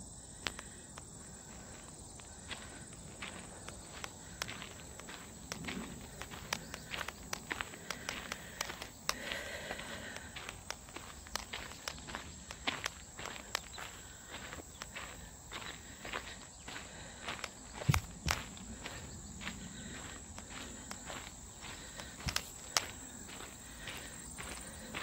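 Soft footsteps of a person walking along a trail through Midewin Tallgrass Prairie, a faint, steady crunching rhythm close by, set against a constant high chorus of crickets and insects.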